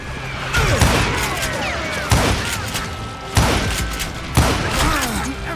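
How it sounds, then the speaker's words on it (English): Gunfire in the Western shooter Call of Juarez: Gunslinger: a ragged fusillade of sharp shots and thumps, with four heavier bursts spaced about a second apart against continuous crackling. "What are they shooting at?"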